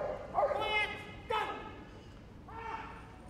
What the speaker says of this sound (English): the dog will come in and bark and hold, so he barks in front of him